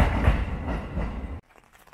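A train runs on rails in Japan, a steady loud rumbling roll that cuts off abruptly partway through, leaving quiet.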